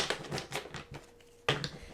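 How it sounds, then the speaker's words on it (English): Tarot cards being shuffled by hand, a series of quick papery riffles and taps in bursts, fairly close and soft, with a brief pause before a final sharper flurry. "pull out the tarot, do a little shuffles"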